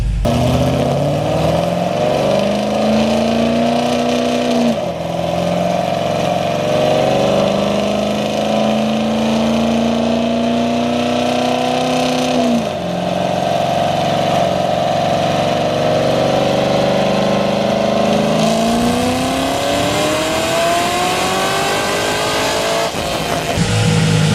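A tuned Corvette engine revs hard through several rising pulls with rippling exhaust harmonics, loud and close, ending in a long climbing rip.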